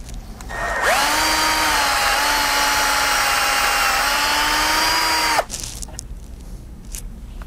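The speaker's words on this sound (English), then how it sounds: "So now with the smaller one, we're gonna get that one drilled out" A power drill bores out a homemade, Snap-on-style wire insertion tool, the smaller of two. It gives a steady, loud, close whine for about four and a half seconds, then cuts off, leaving faint background noise.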